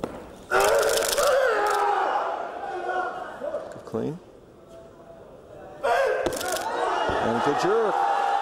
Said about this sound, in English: He's got good support from the crowd.